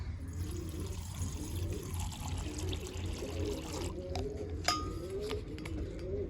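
Measured water poured into a container for pigeons before mixing in deworming tablets: a close, continuous trickling pour with a few small clinks of the vessel near the end.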